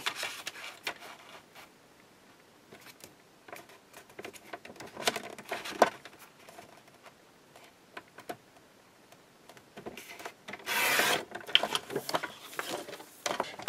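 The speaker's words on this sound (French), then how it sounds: "Dans la chute qu'il me reste, je découpe une bande de 3 cm" A 3 cm wide strip being cut from an offcut while making a decorative table: scattered soft clicks and light scraping, close and fairly quiet, with a brief louder rasping stroke near the end, no speech.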